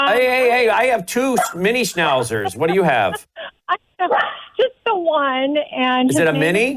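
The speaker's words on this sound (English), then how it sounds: "Sorry about the barking schnauzer." A miniature schnauzer barks in short bursts under and between people talking on a phone-in line during a press conference.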